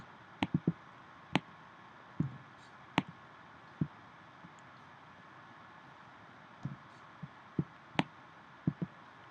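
Isolated tom drum track from an adult mixing session with poorly placed mic: sparse, uneven thumps at irregular intervals, some in quick pairs, over a low, steady background hum and faint bleed.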